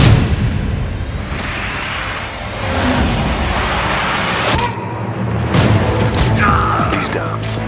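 Sniper rifle fire in the video game Sniper Ghost Warrior 2, heavy booming shots standing out over a dense, loud cinematic mix, with a sharp report near the middle and another shortly after.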